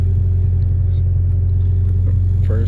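A car's engine idles steadily and loudly at close range, a constant low rumble while the gear lever of a manual gearbox fitted with a VMS short-throw shifter is moved through the gears, with faint clicks near the end.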